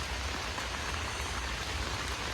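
Heavy rain pours over a forest campsite in India, a close, steady, unbroken roar of falling drops with nothing else heard.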